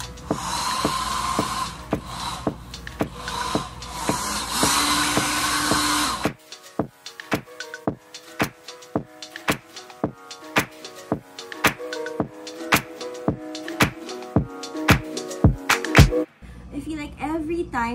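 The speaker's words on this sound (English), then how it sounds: "I'm gonna blow dry my hair because it is a must to have, dry hair." A handheld hair dryer blows with a steady broadband whoosh for several seconds, then cuts off, leaving scattered knocks and handling sounds.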